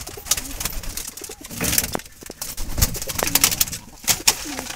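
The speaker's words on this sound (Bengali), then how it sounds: "খুবই সুন্দর কবুতর।" Wild Jalali pigeons cooing close by, with repeated soft calls and a few brief wing or rustling sounds, outdoors with no talk.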